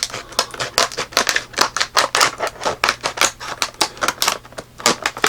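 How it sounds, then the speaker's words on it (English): Cardboard package box being cut open by hand without scissors, a close, loud series of sharp rhythmic slicing and tearing rasps in quick irregular bursts, with no talking. "I'm just talking while I'm cutting the box"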